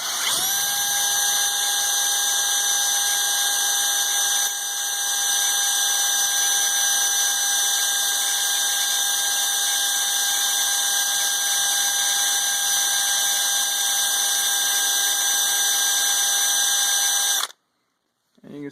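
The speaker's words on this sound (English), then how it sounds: "So I take the drill and I run the drill out across here" A power drill whines steadily at close range for about seventeen seconds while sharpening a sawmill blade, a high sustained motor tone that cuts off abruptly near the end.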